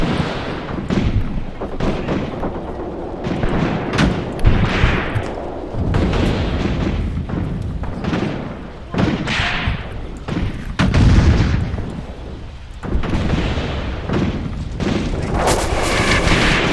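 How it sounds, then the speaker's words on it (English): Machine gun and cannon fire in a WW2 tank battle game set in the ruins of Tunisia, 1943, arriving as repeated heavy gunshots and booms over a dense battlefield din, loud and irregular. "But you can see that machine gun firing, for instance."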